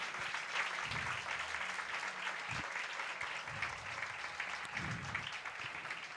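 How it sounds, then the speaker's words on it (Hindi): Congregation applause at a Christmas church sermon, a broad steady wash of clapping lasting about six seconds at moderate level, with some low rumble mixed in. "जोरदार तालियां खुदा यीशु मसीह के लिए।"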